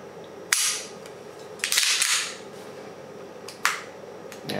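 Single-stack 9mm pistol trigger being reset, a few sharp, close metallic clicks spaced irregularly against a quiet background.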